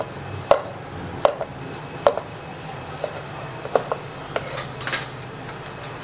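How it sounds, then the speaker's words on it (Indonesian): Onions being chopped with a knife on a board while making clear soup, a series of sharp, evenly spaced thuds about once per second, close and fairly quiet over a low steady background hum. "Ini bawang ini kita potong, lanjut masuk dalam."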